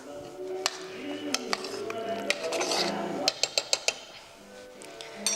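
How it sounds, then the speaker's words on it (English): A spoon stirring sauce with onion in a metal pot for scalloped potatoes and ham, giving soft scraping broken by sharp clinks and a quick run of taps against the pot, with a voice talking throughout. "Give it a nice little stir."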